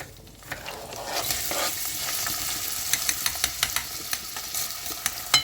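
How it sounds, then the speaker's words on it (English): Onions sizzle in a pan of butter and oil, a steady close frying hiss with a sharp clatter as they are first stirred, then a run of light scraping taps from the utensil. "So the onions gets fried a little bit"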